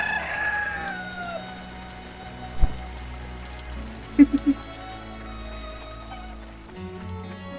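Small chickens in the Eastshade video game clucking and crowing among soft ambient game sounds and music, with a few short sharp pecks or clicks mid-clip; no speech.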